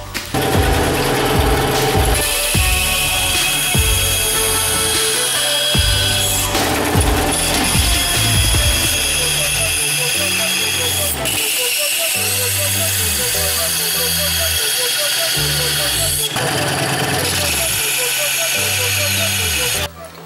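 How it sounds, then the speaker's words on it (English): A saw cuts tabs off homemade metal soft jaws in a continuous, loud, close run of rapid buzzing strokes that carries on for the whole stretch with brief pauses, and a voice talks over it at times. "take your whatever saw you're using and cut it there, and also cut at the angle"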